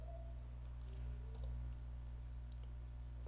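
Someone types a prompt on a computer keyboard: soft, scattered key clicks in an irregular run over a low steady background hum, quiet and close, with no voices.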